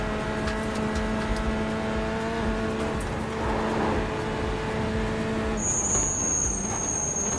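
Race car brakes squeal in the iRacing sim, a steady high-pitched whine laid over a continuous engine drone, loud and close, with a sharper tone cutting in toward the end.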